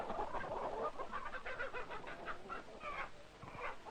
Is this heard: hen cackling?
yes